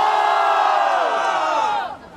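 Crowd cheering and shouting at a Brazilian freestyle rap battle, a loud sustained roar of many voices that swells briefly and then drops off abruptly near the end.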